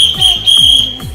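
A loud scouting whistle for Morse signals sounds in sharp bursts, one short and one long, close and shrill over a faint rhythmic background.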